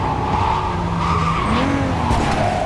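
A car in Cyberpunk 2077 driving with engine revving and a loud tire-squealing skid partway through, close and prominent for a brief moment.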